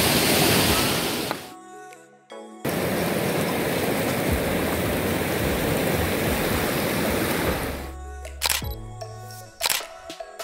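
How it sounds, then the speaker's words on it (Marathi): Fast-flowing river at Tapovan in Nashik, its force raised by overnight rain, roars as a loud, steady broadband rush, broken by two brief gaps filled with clicks and sharp knocks near the end. "रात्री वाटतं खूप थोडासा पाऊस आलेला म्हणून वाटतं नदीला फोर्स खूप वाढलेला"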